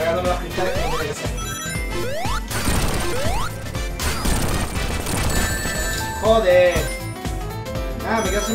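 Glass shattering in Sonic Mania Plus, Studiopolis level played as Mighty, bursts out in a dense, loud crash around the middle amid constant game music and effects, with a voice commenting over it.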